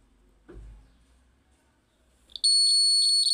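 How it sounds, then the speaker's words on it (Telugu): A 12 volt buzzer wired to a battery, red to red and black to black, suddenly sounds a loud, steady electronic tone that holds without a break after a brief thump and a moment of quiet. "మీకు ఒక బజర్ టోన్ వస్తుంది."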